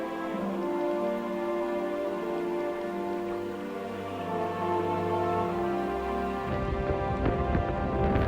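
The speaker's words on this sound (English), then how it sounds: "A lot of rain, a lot of wind." Steady rain falling during brutal weather on a camping trek across the Pyrenees, a dense constant hiss and patter with a rough, gusty edge that stays fairly loud throughout and stirs a little more near the end.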